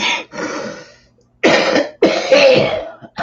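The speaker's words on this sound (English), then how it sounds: "Like I said, there's that cough." A person coughs in close, loud, harsh bursts, four or five rough hacking fits with short silent gaps between them and no talking.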